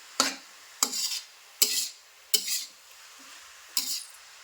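Spoon stirring and scraping in a wide kadai with ghee, five separate clanking strokes spaced about a second apart, each trailing off into a faint sizzle, close and moderately loud with no talk.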